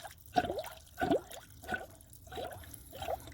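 Coolant drips and trickles while refilling the cooling system of a 2015 Hyundai Sonata Sport 2.0T, with five distinct liquid plops spaced about every two-thirds of a second, fairly quiet and close.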